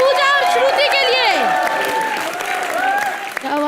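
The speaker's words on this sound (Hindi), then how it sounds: "एक बार जोरदार तालियां" A studio audience at a Hindi television comedy show applauds loudly and continuously, with a voice speaking excitedly over the clapping throughout.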